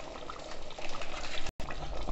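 Country chicken curry simmers in a pot, a soft, close bubbling and liquid gurgle that briefly cuts out midway.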